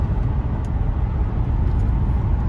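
A used car on a test drive rolls along a road, its cabin filled with a steady, loud low rumble of engine and tire noise without any talk.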